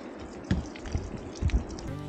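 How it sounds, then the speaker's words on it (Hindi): Water drips from a rock on a mountain walk, a few soft, separate drops falling at an uneven pace over quiet outdoor ambience. "कैसे बूंद बूंद टपक रहा है पानी चट्टान से"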